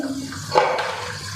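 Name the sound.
rice poured into boiling water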